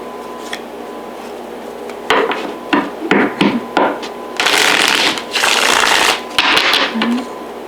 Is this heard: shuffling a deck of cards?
yes